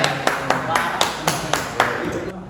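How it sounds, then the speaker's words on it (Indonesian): A short run of about eight evenly spaced claps in a classroom during a lesson, moderately loud with a faint room murmur underneath. "Tepuk tangan."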